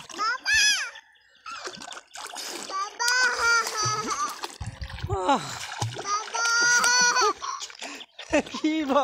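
Children splashing and swimming in a large pond, water slaps and splatters mixed with excited kids' shouting, calling and laughter almost continuously, close and lively.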